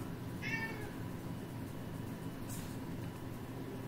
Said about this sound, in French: Nous avons le chat qui nous tape la causette